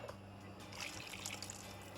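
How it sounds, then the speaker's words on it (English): Quiet splashing and trickling as a cup of water is poured into a pot of wild rice, mushroom and butternut squash soup, brief and soft over a low background hum. "I am going to add another cup of water to this."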